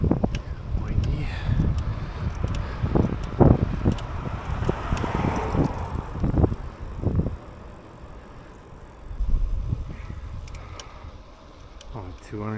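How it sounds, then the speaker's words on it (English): Wind buffets the microphone on a road bike ride through Muskoka Lakes, a continuous rough roar with gusts rising and falling, while a rider's voice speaks over it. "Windy."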